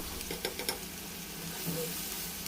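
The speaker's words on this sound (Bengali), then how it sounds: "পেঁয়াজ বাটাটা প্রায় দুই টেবিল চামচের মতো দিয়েছি দিয়ে এটাকে একটু ভেজে নিচ্ছি" Onion paste with chopped onion and garlic fries in a pan for a fish-head dish, making a soft, continuous sizzle with a few light scraping ticks and no voices.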